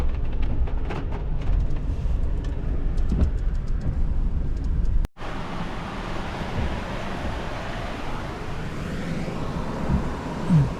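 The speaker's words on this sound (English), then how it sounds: "Driving over a river." A car drives over a river bridge in pouring rain, a steady loud road and tire rumble that cuts abruptly midway into a broader rushing wash of wet road noise.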